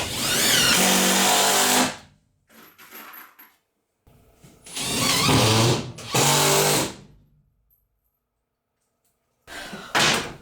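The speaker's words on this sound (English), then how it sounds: "I'm just going to clamp it and screw it with some 1 1/4 inch screws" A power drill drives 1 1/4 inch screws into clamped plywood in two loud, close whirring bursts of about two seconds each, separated by quieter handling noise, with a short burst starting at the end.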